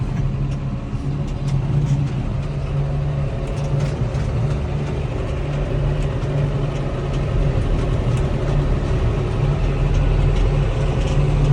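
A John Deere 6330 Premium tractor engine idles nearby with a constant, steady low rumble and hum, unchanging throughout with no voices.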